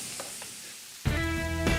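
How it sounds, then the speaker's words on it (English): Partway through, food hits a hot pan and a loud, steady sizzle crackles on to the end. Before that, only quiet background noise. "Nothing better than onions cooked in bacon fat. Love that sizzle."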